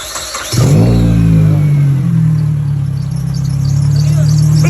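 A car engine cranks and catches, then revs loudly and settles into a steady, strong idle close by.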